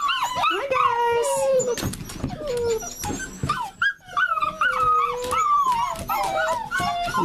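Several seven-week-old Sheepadoodle puppies in a kennel howl and whimper in overlapping, wavering high cries, loud and close, with yips and scrabbling mixed in.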